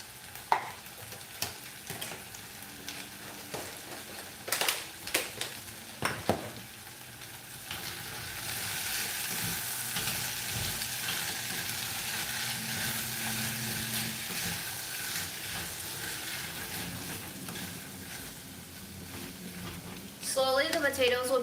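Potatoes and scallions fry and get stirred in a pan, a steady broadband sizzle with occasional scraping knocks, partly under music and a talking voice, growing louder near the end.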